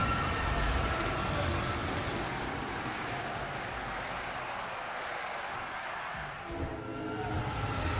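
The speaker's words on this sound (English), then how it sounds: "Train." A train rumbles past in DmC: Devil May Cry, a loud continuous roar with rattling and a faint metallic squeal, easing slightly toward the end.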